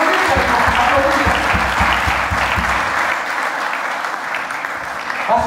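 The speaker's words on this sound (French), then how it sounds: "Applaudissez seulement, applaudissez seulement" Sustained applause from a big crowd fills the space, dense and even, with a faint rhythmic thump underneath that fades toward the end.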